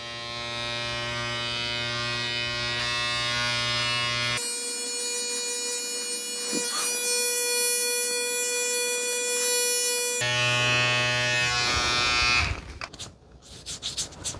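Close electric shaver buzzing steadily as it passes over the hair of a forearm, its pitch jumping when the head presses against the skin, then a rough burst of handling noise near the end.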